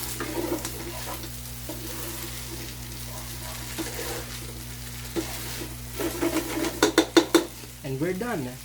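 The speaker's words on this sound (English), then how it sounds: "Give it a stir." Tomato stuffing fries in a pan with a constant low sizzle, stirred with intermittent scrapes, then several louder clattering knocks of the spoon against the pan near the end, close by and without speech.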